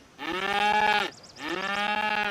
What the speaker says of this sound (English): I don't know why that thing sounds like a sick cow, honestly.